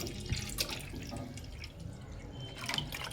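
Water poured into a bowl in a home kitchen while oil heats for frying paneer, a steady liquid splash and trickle with a few drips, close by and with no talk.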